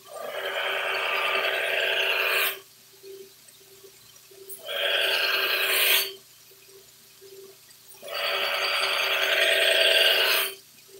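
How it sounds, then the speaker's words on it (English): A CPM S60V stainless powder-steel knife blade is sanded with abrasive, making three long, steady, loud grinding bursts with a humming tone, separated by brief quieter pauses. No voice is heard. "I'm going to start with the sandpaper and we'll find out."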